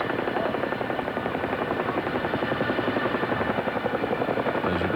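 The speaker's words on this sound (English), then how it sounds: "the Black Hawk and Chinook helicopters accompanying the Apaches." Military helicopters from a 1999 NATO operation, Apaches escorted by Black Hawks and Chinook troop carriers, fly by with a steady loud rotor chop and turbine drone lasting throughout.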